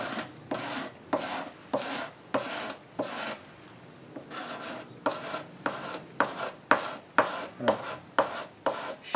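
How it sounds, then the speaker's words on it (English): A scraper blade rasps dried glue off a wooden Pembroke table leg in quick, regular back-and-forth strokes, close and crisp, with one brief pause midway before the rhythm resumes. "I'm going to take some of that off the scraper blade so I can see my markings more clearly"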